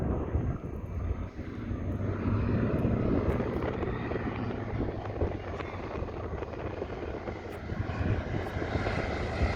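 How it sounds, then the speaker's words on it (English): A World War II Texan trainer propeller plane coming in to land, its engine drone steady and moderately loud at a distance, with wind buffeting the microphone throughout. "We've got a Texan, an old World War II trainer plane just about to come into land."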